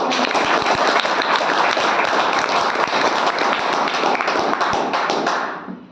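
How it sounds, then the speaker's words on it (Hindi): A group of Agniveer recruits gathered for an afternoon meeting with an army soldier claps together in a dense, steady burst that holds for several seconds before tapering off at the end, with no talking over it. "मैं तुम्हारे लिए आया, ताली बजाओ।"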